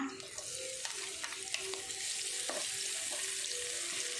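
Thai sam kler paste of garlic, coriander root and pepper stir-fried in hot oil, a steady close sizzle broken by scraping stirs of a spatula, with no voices over it.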